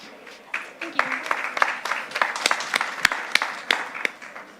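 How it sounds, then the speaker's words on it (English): Audience at a startup pitch event applauds as a presenter comes up, the clapping swelling from a thin start into a lively, uneven patter with distinct sharp claps standing out near the front. "So can I please have a very warm applause for Judit"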